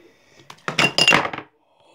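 A plastic water bottle is flipped and lands in a quick, clattering burst of knocks lasting under a second, close and fairly loud, followed by silence.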